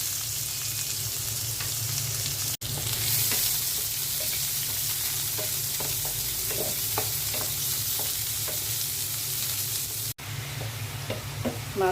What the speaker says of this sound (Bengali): এখন আমি মাছ ভাজা তেলের মধ্যে পেঁয়াজ দিয়ে দিচ্ছি।